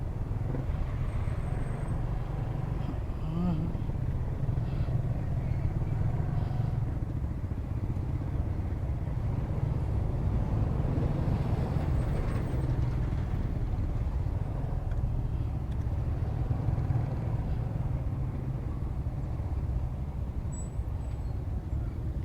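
Heavy road traffic in Imus, Cavite, heard from a Honda Wave RSX motorcycle: a continuous low rumble of engines and passing vehicles, steady and unbroken, with no talk.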